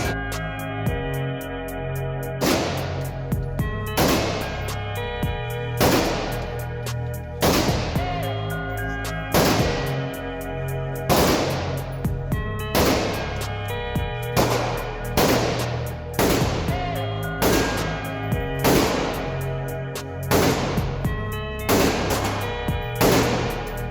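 Repeated loud gunshots at a night shooting event firing streak bullets, a steady series of sharp close reports roughly every second or two, each ringing out briefly.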